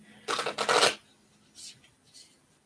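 A deck of cards being shuffled, a loud riffling burst near the start followed by two fainter, shorter shuffles, with no talking.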